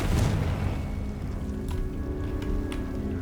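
A Confringo spell blast in a Harry Potter video game lands as a loud, deep boom at the start, then fades into a rumbling tail with a few fainter pops.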